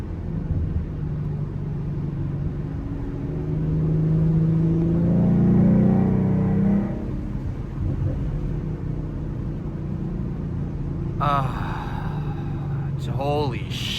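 Engine of a 2014 Ford Mustang V6 with a loud exhaust driving through Boston city streets at night, a steady low rumble that swells around the middle as it accelerates, with faint traffic noise behind.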